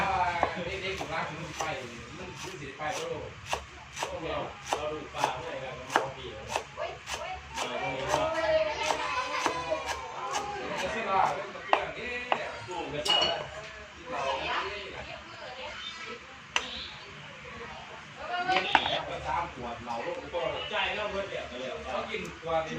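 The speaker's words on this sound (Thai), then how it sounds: "เดี๋ยวสิมาซอยผักหอมกันเด้อ" Rapid, steady knife chops through coriander on a cutting board, dozens of crisp taps in a fast rhythm, with people talking over them.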